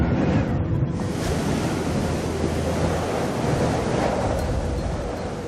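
Heavy ocean waves and storm swell on a primeval sea roar in a continuous, loud wash of surf with gusting wind, steady and dense throughout with no voices.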